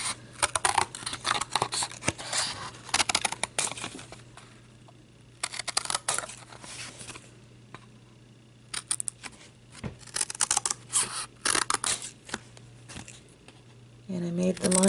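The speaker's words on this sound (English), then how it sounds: "I'm going to cut right on the line here" Scissors cutting a note card along a line, a series of crisp close snips in bursts with quiet pauses between and faint handling sounds.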